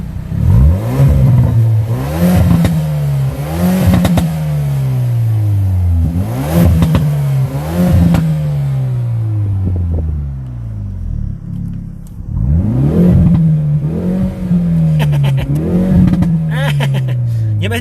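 A Hyundai i30 Fastback N Performance's turbocharged 2-litre, 275 hp engine with stock exhaust revving hard through repeated rising pulls, loud and close outdoors, with a brief lull before the revving resumes.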